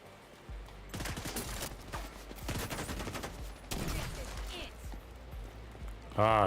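Rapid bursts of Virginian 1886 rifle fire in The Division 2, loud cracks in quick clusters amid a dense battle din, with a voice talking over the shooting.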